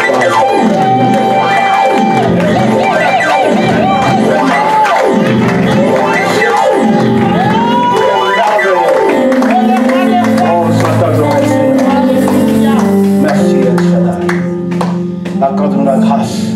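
A church congregation cheers, shouts and claps loudly with energetic voices rising in waves, a continuous dense crowd roar.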